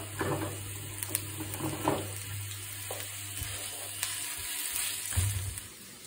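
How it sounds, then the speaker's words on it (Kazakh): A soft, steady sizzle of onions frying in hot oil, with a few faint clicks and stirring sounds and no talking. "Кішкене жуамызды азғантай қуырып алып"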